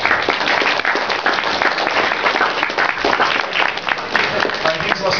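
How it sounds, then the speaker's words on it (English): A crowd at a furry convention games event breaks into steady applause, clapping dense and continuous throughout with some voices mixed in. "Let's have a round of applause, please"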